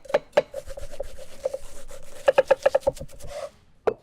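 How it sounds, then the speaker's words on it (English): Red onion finely chopped with a knife on a wooden board, rapid rhythmic taps in bursts, a dense run of about six quick strikes near the end, then a single final chop, close and crisp. "Finely chop the onion."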